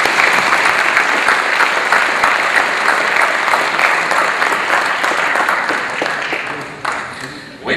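A speech-contest audience bursts into a sustained round of applause, dense steady clapping that fills the space and thins slightly toward the end, with a faint voice underneath.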